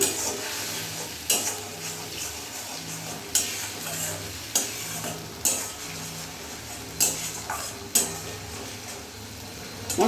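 Ground spices with cumin and Kashmiri chilli powder fry in oil for a fig dalna, a steady sizzle broken every second or so by sharp spatula scrapes and taps against the pan.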